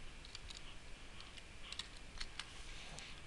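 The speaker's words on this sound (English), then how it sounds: "so I'll type lemonade" Someone types on a computer keyboard: faint, scattered keystrokes clicking in small irregular clusters over a quiet background hiss.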